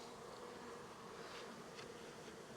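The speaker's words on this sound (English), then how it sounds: "Now bees are on me, but they're not like mad. They're confused." Honey bee swarm buzzing steadily and close at hand during an evening swarm capture, a dense continuous drone with no voices over it.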